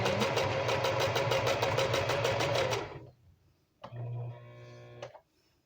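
A home sewing machine stitches fabric in a fast, steady mechanical chatter for about three seconds, pauses briefly, then runs a shorter burst, close and clear with no talking.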